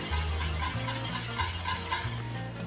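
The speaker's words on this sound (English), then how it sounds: "So I'm whisking because I don't want any lumps." Polenta being whisked in a pot with salt and a little oil, a steady scraping, stirring swish close up and continuous, with a bubbling sizzle underneath and no voices.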